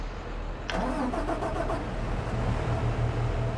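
A tractor engine in Farming Simulator 22 cranks briefly and catches, then settles into a steady, low, rumbling idle with a faint rhythmic throb.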